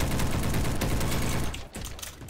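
Rapid automatic gunfire from a Galil rifle in the online shooter Bad Business, a dense sustained burst for about a second and a half, then tapering into scattered shots and fading mechanical clatter.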